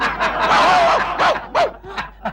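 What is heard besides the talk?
dog barking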